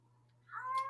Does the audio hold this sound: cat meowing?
yes